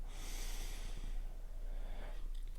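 A deep inhale during a guided meditation: one long, steady, airy breath drawn through the nose, close and fairly loud, with a faint snort-like rasp and no talk over it.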